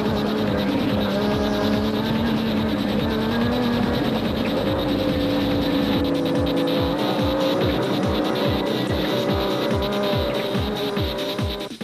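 Nissan racing cars, among them a 2-litre Nissan Bat, roar past on a circuit with loud, sustained engine noise, rising and falling as the cars go by, with a rapid series of close passes toward the end.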